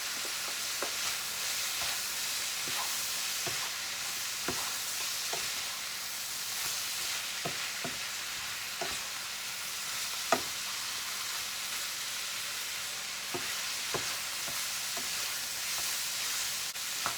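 Sausage mixture with herbs and thyme fries in a pan, a steady broad sizzle throughout with repeated light taps and scrapes of a spoon stirring at irregular intervals.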